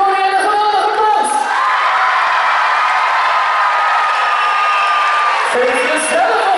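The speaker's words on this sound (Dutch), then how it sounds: "Geef jullie koning en koningin een geweldige applaus!" A large crowd at a kids' event in Sevenum cheers loudly and steadily, with whoops and shouting carrying over the noise, as it applauds a king and queen.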